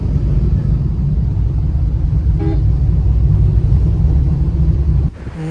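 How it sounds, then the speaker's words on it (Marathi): Heavy, jammed road traffic on Ghodbunder Road heading toward Mira Road, a steady low rumble of engines with a short car horn toot partway through and another sharper honk near the end. "तुम्ही बघा घोडबंदर रोडला किती भयंकर ट्रॅफिक आहे."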